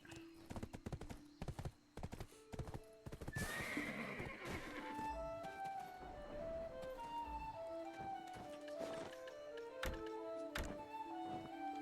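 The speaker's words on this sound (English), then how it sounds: "Horse too fat, got stuck." A horse in the Black Desert video game whinnies and its hooves clip-clop in a rapid run of taps, with thunks and game chimes scattered around it, no speech.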